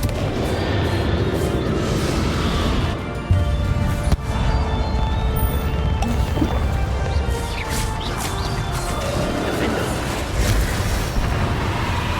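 Confringo blasting spell explosions rumble through a Hogwarts Legacy boss battle, a dense, loud, continuous barrage of booms and crashes with sharper impacts scattered throughout.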